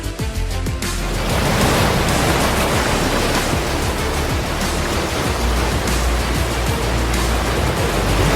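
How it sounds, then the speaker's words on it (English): Powerful ocean waves crash and roar in a dense, continuous wash of surf noise, loud and close, with no voices. "just wait until you see the ocean unleashing its full fury"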